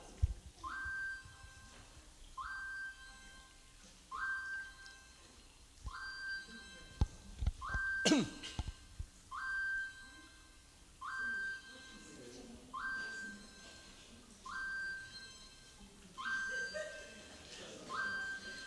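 Repeated short two-tone whistle blasts sound at a steady interval through a public lecture hall, about nine bursts spaced a couple of seconds apart, moderately loud over a quiet room with a brief sharp knock midway.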